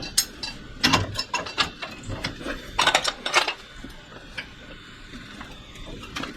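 Pipe wrench turned on brass scrap, giving clusters of sharp metallic clicks and clanks in uneven bursts, then quieter handling noise.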